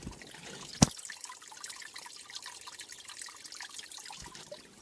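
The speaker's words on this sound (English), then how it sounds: "And there's actually water running." A small stream runs beneath snow at a ski area, a soft, continuous trickle and gurgle heard close by, with one sharp knock near the start.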